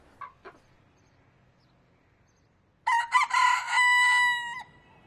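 A pet rooster gives a single loud, drawn-out crow close by after a few soft clucks, against an otherwise quiet background.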